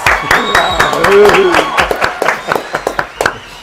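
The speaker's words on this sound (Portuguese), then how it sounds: "Salva de palmas, senhores!" A small studio audience applauds a guest on an interview programme, giving a handful of distinct sharp claps that stand out more clearly toward the end, with voices and other sounds mixed in near the start.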